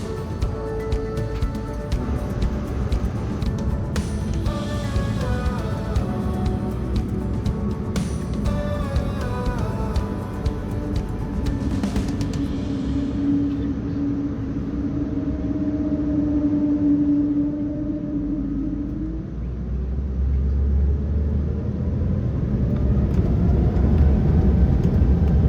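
A Luxair airliner pushing back and taxiing to the runway: a steady cabin engine whir and hum, rising and shifting pitch as the jet rolls, heard from inside without talk.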